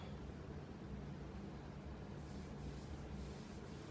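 A rusty, gunk-coated kettlebell handle is shaved and scraped clean, giving a faint, continuous rough rubbing that rises a little in roughness over the last second or so.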